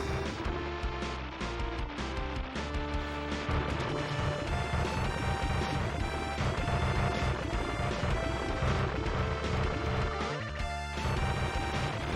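A smart bomb detonates in the SNES game U.N. Squadron with loud crashing blasts layered over constant chiptune music and sound effects, without speech.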